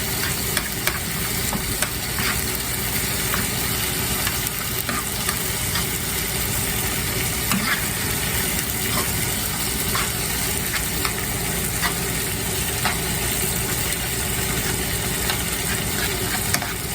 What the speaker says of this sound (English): you're just going to work on melting this cheese down